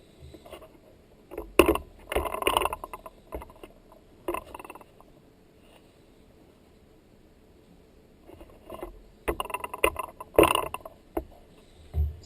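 Gurgling, sputtering water draining away from a newly unblocked bathtub, coming in bursts with quieter stretches between, close by and fairly loud.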